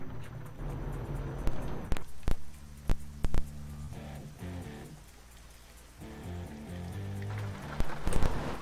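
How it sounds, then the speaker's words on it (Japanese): Heavy rain drums on the truck in Euro Truck Simulator 2, a steady wash of drops with occasional sharp taps and thuds and a low engine hum underneath. "雨がきついな。"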